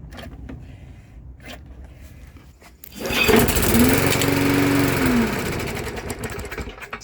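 An old MTD lawnmower engine is pulled over and fires, roaring loudly for a few seconds after a quieter stretch, then sputtering and fading as it dies.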